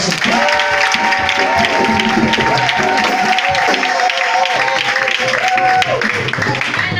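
A church congregation applauding and acclaiming together, a dense, continuous wall of clapping and crowd voices that stays loud and steady throughout, with a voice rising above the crowd.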